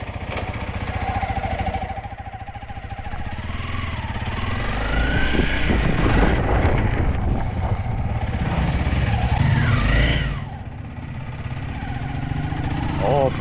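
A light motorcycle being ridden, its engine droning steadily and swelling midway before easing off, with people talking over it throughout.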